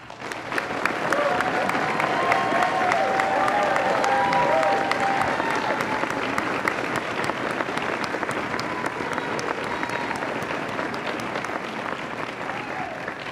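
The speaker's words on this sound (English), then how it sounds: "Please join me in recognizing these awardees with a round and rousing round of applause." A large audience at an awards ceremony claps steadily and loudly for over ten seconds, a dense wash of applause that swells early and then holds with little change.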